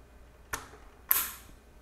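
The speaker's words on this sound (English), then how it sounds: "So we're coming up to where the torque wrench is about to do its job." A torque wrench clicks while a Threadripper CPU is fastened into its socket, giving two sharp, close clicks about half a second apart, the second slightly louder, against a quiet background.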